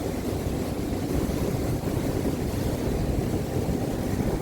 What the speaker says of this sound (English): we're passing our first pleasure craft boat